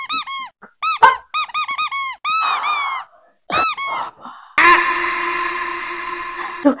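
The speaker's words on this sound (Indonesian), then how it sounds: "mama mau dudukin balon di atas kursi" A rubber balloon squeaks and squeals in a string of short, loud rubbing bursts as it is pressed and sat on atop a chair, ending in a longer sustained squeal, with no speech.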